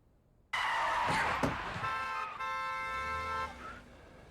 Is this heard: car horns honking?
yes